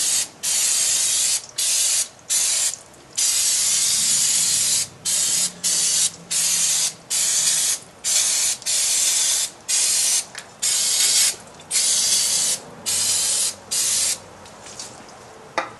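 Brake cleaner is sprayed onto a GM drum brake assembly in a long series of loud, close hissing bursts of uneven length, separated by short gaps, with no talking.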